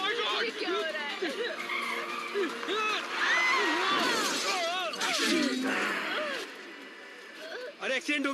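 A car skids and crashes with glass shattering, amid busy overlapping voices and effects across the whole stretch.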